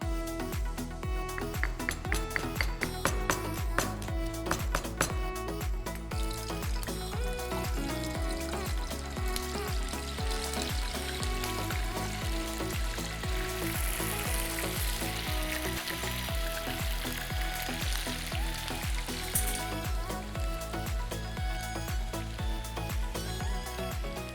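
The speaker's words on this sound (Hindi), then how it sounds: "अभी यहाँ पर इसको सिर्फ फ्राई नहीं करना है, जड़ तक फ्राई करना है।" Paneer fries in a hot pan for a Paneer Bhurji masala, a dense continuous sizzle with crackling bursts throughout, steady and close, with no talking over it.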